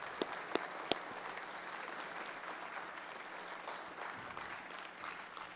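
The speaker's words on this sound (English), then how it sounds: "So if we could give all of these fine advocates a round of applause." Applause fills the Hawaii Senate chamber, a dense, even patter of many hands clapping at moderate distance, opening with a few sharper individual claps and continuing steadily for several seconds.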